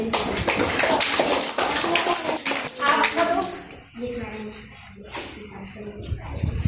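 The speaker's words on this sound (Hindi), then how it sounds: "चलिए मान लेते हैं, ताली हो जाती है।" Classroom children clapping together in a school library session, a dense burst of many hands for a few seconds that quickly thins to scattered claps, with voices talking around it.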